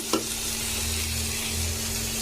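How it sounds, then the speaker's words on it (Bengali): Onions fry in a pan, giving a close, steady, loud sizzle from start to end, with a brief knock at the start. "পেঁয়াজটা যে লাল লাল করে ভাজা হয়ে যাবে"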